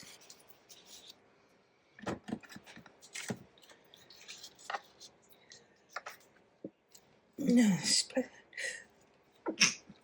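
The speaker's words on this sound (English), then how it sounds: "Something's making me sneeze." A sudden sharp sneeze bursts out amid quiet rustling and small clicks, with brief muffled sounds before and after.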